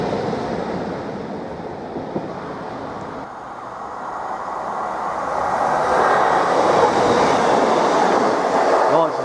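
British Rail Class 153 diesel railcar passing at speed, a continuous rushing roar of wheels and rails with rhythmic rumbling that builds louder toward the end, heard alone without talk.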